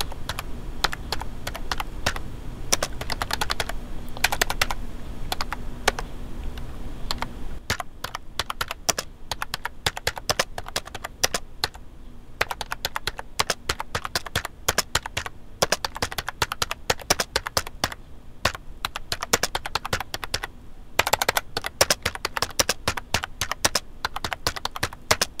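Rapid, uneven clicks of a computer keyboard come close up and continuously, as someone types bursts of characters with short pauses between them, no speech.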